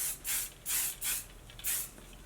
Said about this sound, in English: before I go to the other one, I'm going to spray